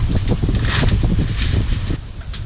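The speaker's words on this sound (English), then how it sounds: "I don't understand all this wind" Strong wind roars and buffets the microphone continuously, a dense low rumble with gusty rustling on top.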